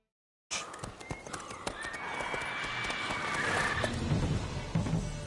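Geralt's horse Roach in The Witcher 3 video game, with sharp hoof clops and snorts over a rising outdoor ambience and a drawn-out whinny near the middle, close and fairly clear.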